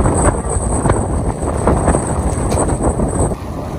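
A strong gust of wind in a storm roars as a dense, steady rush with heavy wind noise on the microphone, loud and close for a few seconds with no talk.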